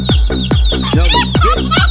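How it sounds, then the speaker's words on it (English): A chicken clucks loudly and close by in a steady run of repeated, falling calls, with no other voices. "Get your kids out of here, chicken."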